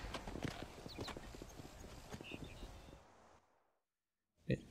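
Horse hooves clip-clopping in the Red Dead Redemption video game, a quick steady rhythm of hoof beats under talk that fades out, then a lone thump after a brief silence.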